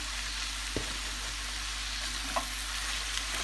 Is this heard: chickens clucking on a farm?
no